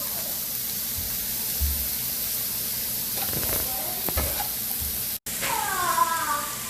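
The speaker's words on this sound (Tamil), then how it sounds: "இதில் கொஞ்சம் சால்ட்டும் சேர்த்து வதக்கிடலாம்." Chopped onions with salt sizzle and hiss steadily in hot oil in a pan for a Tamil brinjal curry, a continuous frying crackle with some brief clatter partway through.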